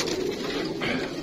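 Pigeons of mixed breeds coo in a breeder's cage, a low steady murmur of calls heard close for a moment.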